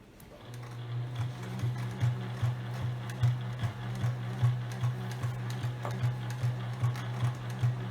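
A sewing machine stitches fabric with a rapid, steady mechanical chatter of even beats, close and fairly loud, running continuously after a brief start.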